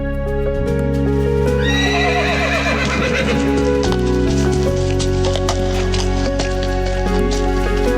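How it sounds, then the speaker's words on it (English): A Red Army cavalry horse on the World War II Eastern Front whinnies loudly while hooves clip-clop steadily beneath a dense bed of music throughout. "The horse moves on its own."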